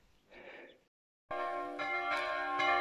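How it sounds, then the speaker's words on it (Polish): Church bells ring out in a rich, sustained peal that starts abruptly after a brief muffled sound and a moment of silence, then keeps resonating and growing slightly fuller with overlapping strokes. "Dzwony biją."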